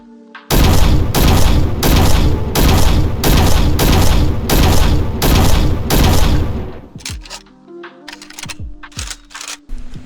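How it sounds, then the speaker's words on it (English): A Dragunov semi-auto sniper rifle in a video game fires nine evenly spaced, loud, sharp shots in a steady rhythm, followed by softer mechanical clicks and clatter as the magazine is handled. "First up, we'll talk about the Dragonov, which has 75, 75, 150 for its damages, and it fires up to 110 RPM."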